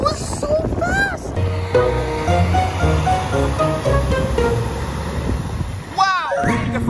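Storm rainwater rushes steadily into a freshly unclogged street drain in a loud, continuous broadband wash, with a person's voice speaking over it near the start and end.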